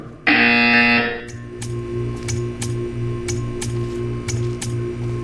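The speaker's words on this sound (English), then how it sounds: "When you hear the buzzer, stare at the art." A loud, harsh electronic buzzer in Portal 2 blares for about a second, then stops, leaving a steady hum with faint rhythmic ticking and clicking.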